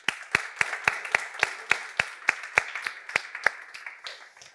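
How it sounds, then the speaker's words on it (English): Sparse, evenly spaced claps ring out, about a dozen sharp hand claps at a steady rhythm, honoring conference organizers at a tech talk on WebAssembly for microcontrollers, with no voices over them. "Let's give a round of applause to the organizers."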